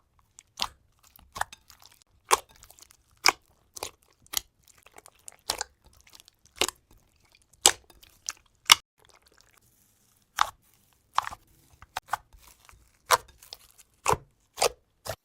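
Dense butter slime being mixed and squished by hand, giving close, crisp crunchy pops and crackles in irregular bursts with short quiet gaps between them, no voices.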